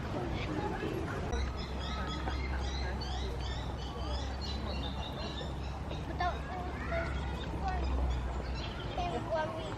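Birds at a rare parrot breeding centre chirp and call in scattered bursts over a low background hum, with people talking nearby.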